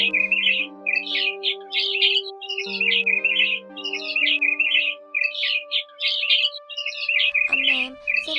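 Migratory white-headed starling calls, a repeated series of bright, chattering chirps in short bursts over a sustained low tonal hum, fairly close and clear.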